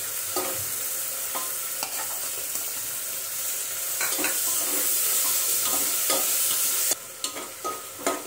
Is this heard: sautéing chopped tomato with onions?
yes